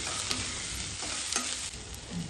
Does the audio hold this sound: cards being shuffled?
no